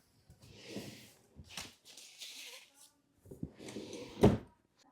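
A drawer or closet door used to store watercolor paints is handled quietly with soft rustles and slides, then shut with a single solid thunk near the end.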